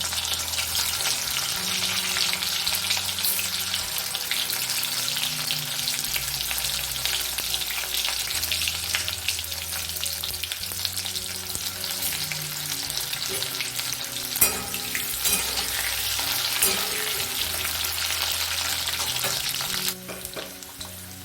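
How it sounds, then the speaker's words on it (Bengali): Boiled potatoes are dropped into hot oil and fry with a steady, close sizzle and crackle that continues throughout, with occasional stirring and light clatter, no talking. "ওই তেলের মধ্যে আমি আলুগুলো দিয়ে দিলাম।"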